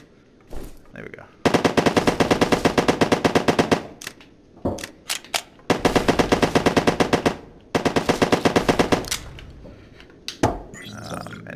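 Automatic machine guns fire in the Modbox video game, three long rapid bursts of evenly spaced shots, loud and close, with short gaps of clicks and handling noises between them.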